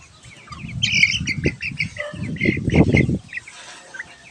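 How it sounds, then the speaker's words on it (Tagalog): Chickens and a large one-month cross chick cluck and peep in short bursts with brief wing flaps and scuffling nearby, busy and fairly close, ending in quiet. "mayroon pong mga malaking sisiw diyan. Tinutuka po sila niyan"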